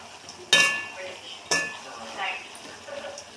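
Onion masala with coriander and mint being sautéed in a pan: two sharp metal clinks of a utensil against the pan, a second apart, followed by softer scraping and stirring noises.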